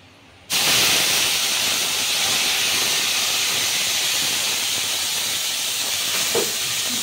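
A ground spice paste hits hot oil in a pan with panch phoron, dried red chili and a bay leaf for fish pakora, bursting into a loud, steady sizzle that holds close and unbroken with no talk.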